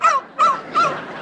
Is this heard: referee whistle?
no